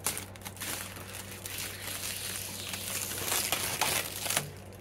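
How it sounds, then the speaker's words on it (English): Thin protective plastic film being peeled off a new aftermarket headlight lens, a continuous close crinkling and crackling that swells and fades over several seconds, with a faint steady hum underneath. "we're going to do a peel of the plastic on the lens."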